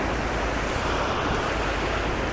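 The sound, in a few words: high river with spring runoff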